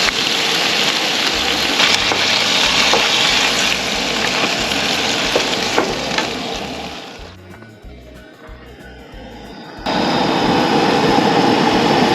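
Marinated pork sizzling in hot oil, a loud, dense crackle and hiss that fades down for a few seconds with low thumps before the full sizzle returns.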